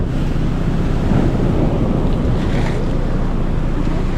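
Sea waves washing in at high tide on a low-lying coast, steady and close, with heavy wind buffeting the microphone throughout and no voices.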